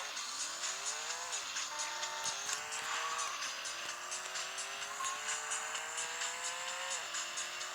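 A car in the video game Traffic Racer accelerates with a rising engine whine that drops at each gear shift, running continuously and loud with faint ticking behind it.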